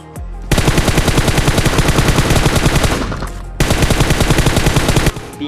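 Rapid automatic gunfire in the BGMI mobile shooter game, two long loud bursts of fast, evenly spaced shots separated by a brief pause.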